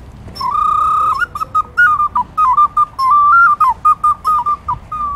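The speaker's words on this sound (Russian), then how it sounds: "Так вот и звучали эти свистульки глиняные" A shrill Kargopol clay bird whistle trills and warbles close by, one sustained note breaking into a run of quick chirping, bird-like bursts.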